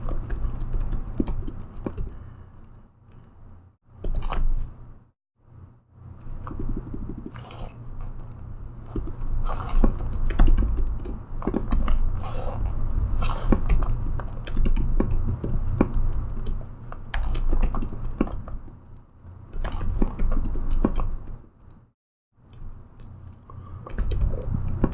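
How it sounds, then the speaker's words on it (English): Typing HTML tags into a terminal text editor on a computer keyboard, bursts of quick close key clicks separated by brief pauses, with no talking. "here I'll type some default tags for that"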